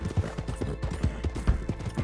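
Horse hooves clip-clopping in Red Dead Online, a steady close rhythm of heavy thuds at a trot with a faint background hum and no talking.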